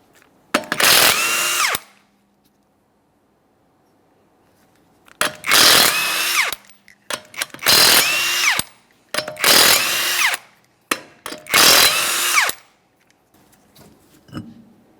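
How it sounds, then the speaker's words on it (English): Power tool removing 21mm lug nuts from a 2014-2019 Toyota Corolla wheel, firing in five loud separate bursts of one to two seconds each with short quiet gaps between them. "we're going to remove all 5 of our 21mm lug nuts and then the wheel"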